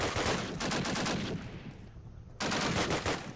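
Bursts of rapid gunfire from Call of Duty on the mp_dawnville map, two loud sustained volleys with a brief quieter gap between them, no talking.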